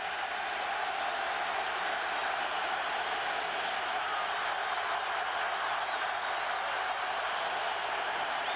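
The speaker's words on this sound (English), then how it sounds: "Here comes the Buffalo crowd." Steady roar of the Buffalo Bills home crowd in a 1998 NFL stadium game against the Jacksonville Jaguars, a broad continuous wash of massed voices holding level throughout, no clear speech on top.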